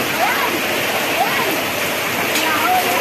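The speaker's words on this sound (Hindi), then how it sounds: "enjoying the rain" Steady, dense rain pours down in a continuous loud hiss, with faint voices barely showing beneath it.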